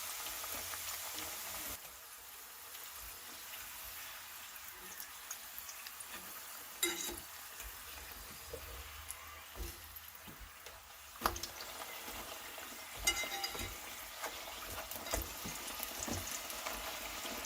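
Meat-filled chebureki fry in a pan of oil on moderate heat, giving a soft, continuous sizzle with a few faint clicks and knocks, fairly quiet and without talk.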